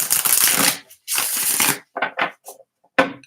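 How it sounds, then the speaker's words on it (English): A deck of tarot cards is shuffled up close in short bursts, a papery riffling and slapping in several separate flurries with brief silences between them. "I'm going to give these cards a good shuffle."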